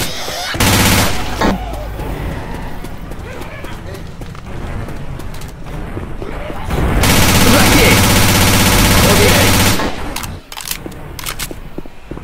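Left 4 Dead 2 gunfire crackles in loud bursts and sustained automatic volleys, with brief lulls between them.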